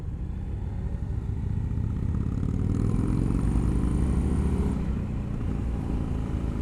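An Indian FTR Rally motorcycle on knobby tires cruising along, a steady mid-pitched engine drone mixed with road and wind noise, holding an even level throughout with no talking.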